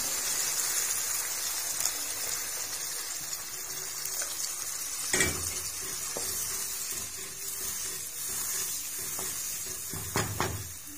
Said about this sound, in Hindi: अब इसके अंदर हम 1/2 लीटर पानी ऐड कर देंगे।